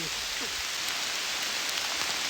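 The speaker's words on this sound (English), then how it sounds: "it's hail now. It is hail." Hail falling outdoors on the Gerard Hiking Trail in Oil Creek State Park, Pennsylvania, making a steady, dense patter and hiss that stays even throughout.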